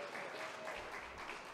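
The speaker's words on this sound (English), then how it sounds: "I don't know if you can hear the applause through the microphones online" A church congregation applauds at a morning service, a faint wash of clapping heard briefly through a room microphone.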